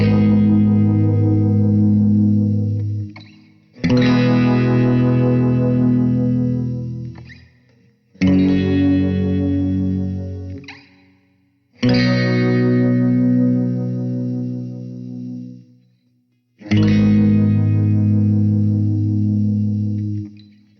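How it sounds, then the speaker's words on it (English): Electric guitar run through an acoustic simulator effect for a twangy Twin Peaks tone, five sustained chords each ringing out and decaying, with a reverberant, chorus-like shimmer and no talking. "give this guitar that special twang that the guitar has in the track"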